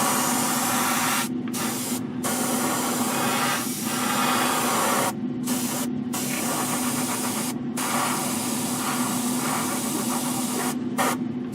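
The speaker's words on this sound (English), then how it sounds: "My airbrush needs cleaned." An airbrush sprays paint onto a 1/32 scale Eduard BF-108 model kit, a loud continuous close hiss broken by several short pauses as the trigger is released and pressed again, with no voices.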